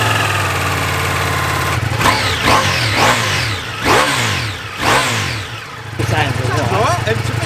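A Ducati Multistrada V4 RS with a full exhaust system starts and revs hard several times in sharp rising bursts, close by and loud, settling back to idle between blips while people talk over it.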